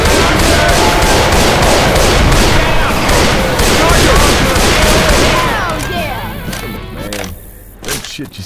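Dense rapid gunfire from Left 4 Dead 2 rattles loudly and continuously for several seconds, thinning into scattered shots and thuds near the end, with people talking over it.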